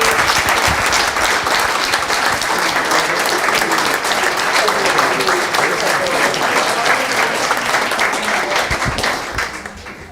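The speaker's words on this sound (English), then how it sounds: "we need to give a big round of applause to the staff" Sustained audience applause at a coaches convention panel, dense, steady clapping throughout that fades slightly at the very end, with faint voices mixed in.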